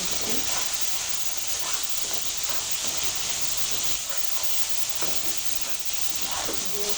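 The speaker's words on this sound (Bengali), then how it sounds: "এবার আবার একটু সুন্দর করে কষিয়ে নিচ্ছি" Ginger paste sizzles and hisses steadily in hot oil while being sautéed for a prawn curry, a continuous near frying hiss with occasional stirring scrapes, no talk.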